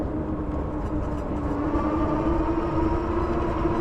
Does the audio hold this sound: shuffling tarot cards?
no